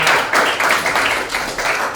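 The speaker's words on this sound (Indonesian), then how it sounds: "kasih tepuk tangan dulu ya" Schoolchildren in a classroom applaud together, a dense, steady burst of many hands clapping at once that carries on for a couple of seconds with no pause.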